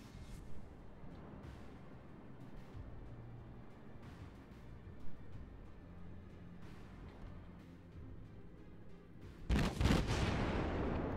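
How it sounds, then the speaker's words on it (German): Heavy battleship main-gun salvos in the naval combat game World of Warships, a deep rumbling bed of distant booms with scattered reports and one loud close blast near the end. "dass ich gleich so auf die Schlachtschiffe treffe, dass die auf mich schießen können"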